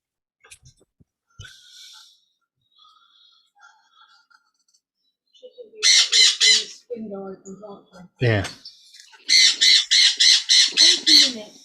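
A bird lets out loud, harsh squawks in rapid repeated bursts, close by, between stretches of quiet and a few spoken words.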